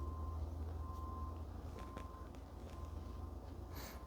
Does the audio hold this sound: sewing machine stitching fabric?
no